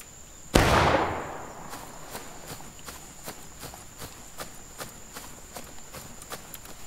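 A big musket volley fires at once in the War of Rights video game, a loud crack with a long decaying roar, followed by a string of quieter scattered shots and sharp clicks.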